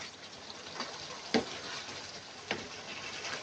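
Sponge gourd sabzi frying in oil and stirred with a spoon, a soft steady sizzle broken by a couple of distinct scraping clinks of the spoon against the pan, close and without speech.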